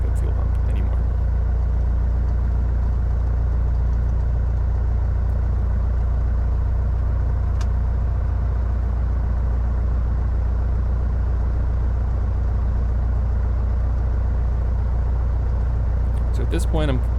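A light aircraft's piston engine idles steadily after startup, a continuous low rumbling drone that stays loud and even throughout with no talk over it.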